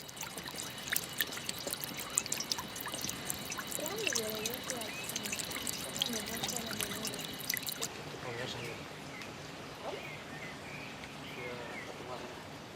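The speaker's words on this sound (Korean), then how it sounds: "마치 새를 닮은 물소리를 내는 분수가 발길을 잡고 떠나질 못하게 한다" Water pouring and trickling from a fountain in the Alhambra gardens in Granada, Spain, a steady splashing with a chirping, bird-like quality, heard close and soft under a voice talking.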